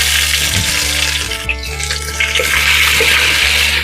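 Ginger and garlic sizzling in a hot pan for mutton curry, a steady, loud frying hiss that runs unbroken throughout, with faint tonal sounds beneath.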